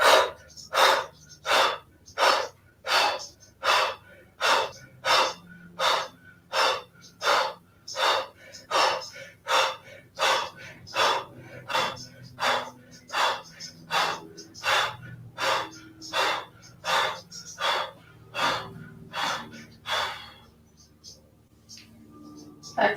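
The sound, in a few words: Kapalabhati fast yoga breathing through the nose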